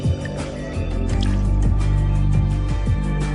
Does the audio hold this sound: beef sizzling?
no